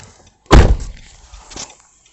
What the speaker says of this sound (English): It says open and close door.